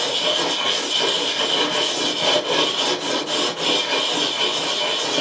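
Guitar frets are cleaned from the body joint to the nut with circular rubbing motions, producing a loud, continuous close-up scrubbing hiss that wavers slightly with each stroke and has no talking over it.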